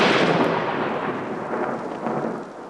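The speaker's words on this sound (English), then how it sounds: "Soon the lightning is directly overhead and the building opposite is about to be struck." A nearby lightning strike on a building during a 1999 storm-chasing trip unleashes a loud, sustained roar of thunder that rumbles on with rain for a few seconds, with no voices.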